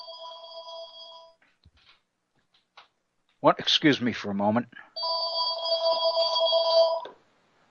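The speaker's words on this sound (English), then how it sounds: "I'm just looking as a phone call coming in on the other phone" A telephone rings with a repeated electronic trill, two bursts separated by someone briefly speaking, the second ring longer and louder.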